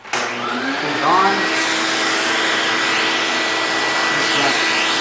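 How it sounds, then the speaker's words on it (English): A vacuum cleaner starts and runs steadily while cleaning a car's air filter, a loud, close, continuous whining roar that shifts slightly as the nozzle moves, with no one speaking. "You take your vacuum cleaner, all right, make sure it sucks well,"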